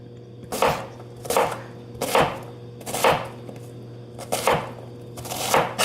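A knife chops food on a board in a slow, even rhythm of about eight sharp cuts, each one distinct against a low background hum.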